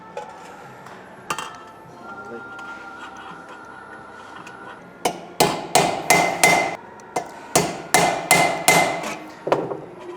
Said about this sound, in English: So another couple of rivets on there, connecting that hinge onto the base of the smoker.